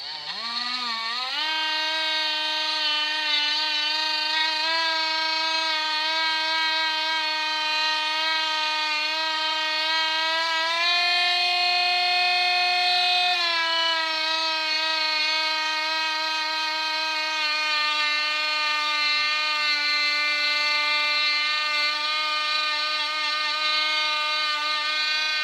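A Parkside cordless multi-grinder polishing silver, a close, steady high-pitched motor whine that rises briefly in pitch midway as load changes, with no talking.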